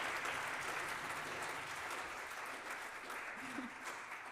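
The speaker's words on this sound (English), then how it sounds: "Yeah, you can clap." Quiet audience clapping at an outdoor music-on-the-square performance, a soft, steady wash of hands from a crowd heard at a distance, with a voice talking faintly over it.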